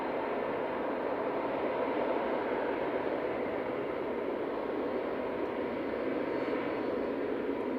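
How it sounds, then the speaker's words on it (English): Emirates Airbus A380 departing Manchester Airport for Dubai, a steady, even wall of jet engine roar holding constant at moderate distance throughout, with no talk. "Okay, heading back to Dubai now. Emirates Flight 20, A6ER. It's the A380."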